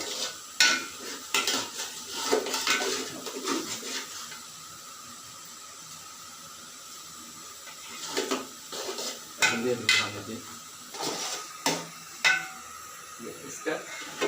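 Khichuri ingredients are stirred and fried in a pot, with a spoon scraping and clinking against the metal over a steady sizzle, in bursts separated by a quieter stretch of faint frying.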